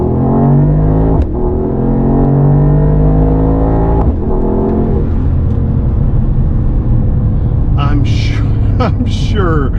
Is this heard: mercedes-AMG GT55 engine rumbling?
yes